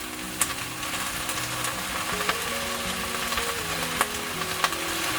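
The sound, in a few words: pan-fried sea bass added to a sizzling pot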